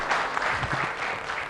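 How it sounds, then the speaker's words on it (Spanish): A crowd gives a burst of applause for construction workers at a new hospital site in Potosí, a dense patter of clapping hands that stays steady for a moment and carries over faint voices. "un aplauso para los obreros, trabajadores"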